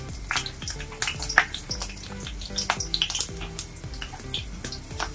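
Green chilies crackle and sputter in hot oil in a pan for a chicken liver fry, with a dense, busy sizzle and scattered sharp pops throughout, fairly close and steady.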